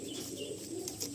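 An Andhra breed pigeon in a loft coos in soft, low, repeated murmurs, with faint chirps and other bird sounds close by.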